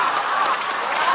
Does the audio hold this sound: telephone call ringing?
no